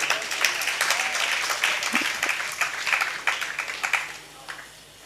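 Audience applause fills a large hall during a religious discourse, steady dense clapping that gradually thins out and fades toward the end.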